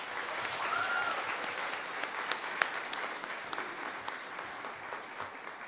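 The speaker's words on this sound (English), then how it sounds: "Let's give them another round of applause." Audience applause at a practical nursing pinning ceremony for community college graduates, a sustained wash of many hands clapping at moderate distance, easing slightly toward the end, with a faint voice briefly audible in the hall.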